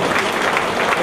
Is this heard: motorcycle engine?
no